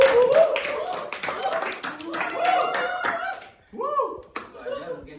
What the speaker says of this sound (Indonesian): Tepuk tangan semua ya.